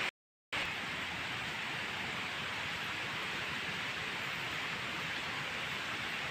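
Rainy-season water pours continuously at Phulijharan waterfall in Kalahandi, Odisha, a steady hissing roar heard nearby after a brief moment of silence at the start.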